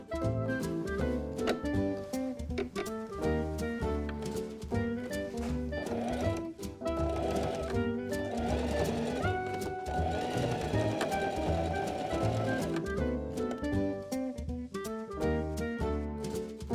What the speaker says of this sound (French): je vais venir écarter les valeurs de couture et faire un point zigzag très serré